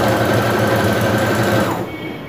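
Sewing machine stitching a hem on a blouse, a steady fast whirring motor run held close and loud that eases off slightly near the end.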